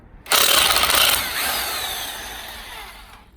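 On a Volvo 850 T-5R being stripped for an AWD swap, a power tool loosens the rear subframe bolts. One loud burst of whirring is followed by a fading, spinning whine.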